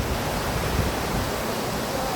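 A river flows with a steady, dense rush of water, even and unbroken throughout, fairly close, with no voices.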